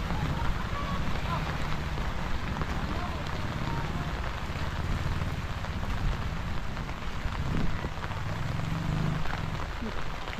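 Steady rain falls during a rainy-season night with distant thunder, a dense even hiss spread across the whole clip with low rumbling underneath and no talk.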